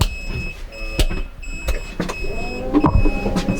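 Electric bed lift motor in a Fiat Ducato XGO 98Plus fibreglass motorhome raising the bed, a steady close whirring hum with scattered clicks and knocks, alone without talk.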